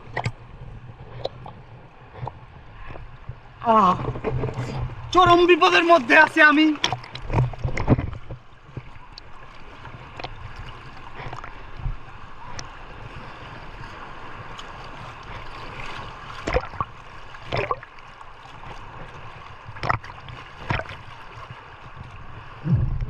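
Strong river current surges and churns at Jaflong in a continuous wash of water noise, with an excited voice shouting over a louder burst early on and talk continuing faintly.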